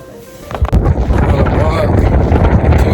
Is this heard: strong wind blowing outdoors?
yes